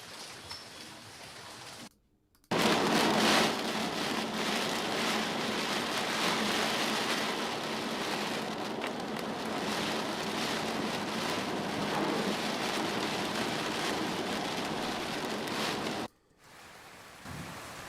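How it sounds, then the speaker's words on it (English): Soft, steady light rain heard from a distance, a diffuse wash of fine patter with brief gaps of near silence at the start and end. "This is more of a distant, diffuse light rain."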